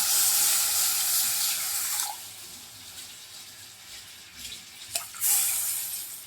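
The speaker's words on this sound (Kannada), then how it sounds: "ಸೊ ಅದೇ ಇದಕ್ಕೆ ಹಾಲು ಹಾಕ್ತಾ ಇದ್ದೀನಿ" Boiled and cooled milk poured into a pan for shavige payasa, a steady liquid splash and trickle lasting a few seconds, close by, tapering off with a couple of small splashes near the end.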